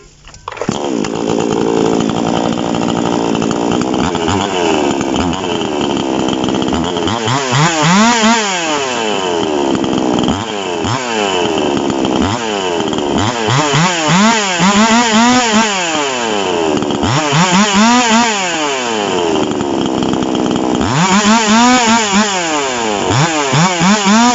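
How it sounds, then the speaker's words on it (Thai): A Taurus SK688i chainsaw runs loud and close while cutting, its engine note rising and falling in repeated rev surges as the chain bites and eases off, with no talk over it. "ผมเดี๋ยวผมจะตัดให้ฟังเสียงอีกรอบหนึ่งครับ รอบสุดท้ายเนาะ"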